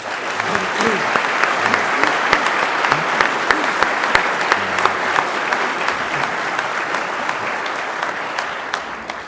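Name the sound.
audience applause welcoming Bob Watson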